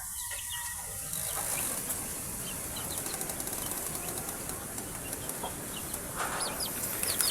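Chicks in a brooder peep in thin, scattered high chirps over a steady background hiss, with soft wing flutters and clucking in the mix and no speech.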